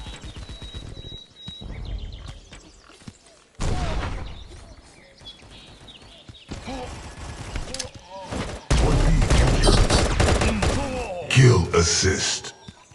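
Gunfire in the shooter game Guns of Boom crackles in bursts amid game announcer voice lines and mechanical effects, growing louder and denser in the final seconds.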